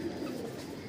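A racing pigeon in a loft in Raebareli gives a brief, low cooing call close up, with other bird sounds mixed in behind it.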